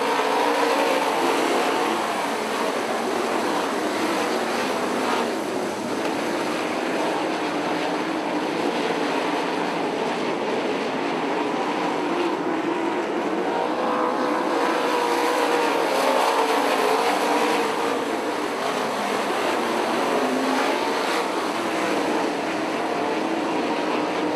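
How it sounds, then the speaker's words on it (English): Race cars roar continuously around an IRA dirt oval during an A-Main, a dense, loud engine drone filling the whole stretch with swells as the pack passes, no talk over it. "35 to go and the yellow flag will come out as Todd Dawn hooks the tires in turns 3 and"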